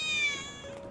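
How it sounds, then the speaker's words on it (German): A single short cat meow sounds close by in the video game Final Fantasy VII Remake, clear and tonal, alone with no talk. "War das nicht gerade ein Mauzi? Es klang ziemlich nah."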